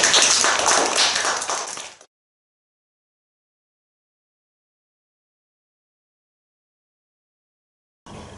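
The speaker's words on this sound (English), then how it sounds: "I think you all need a round of applause" Applause from a nursery graduation audience: a dense burst of clapping for about two seconds, then abrupt silence, with a short return of sound at the very end.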